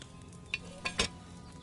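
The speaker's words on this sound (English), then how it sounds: "Hear that bubbling? It's boiling." A few soft, quick bubbling pops from a boiling potion in Kingdom Come: Deliverance II rise and burst over a quiet background, spaced irregularly across a short moment.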